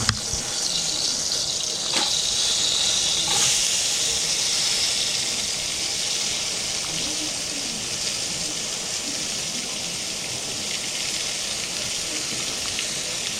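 Green peppers frying in hot canola oil give a steady, bright sizzle throughout, close and even, with a couple of soft clicks near the start.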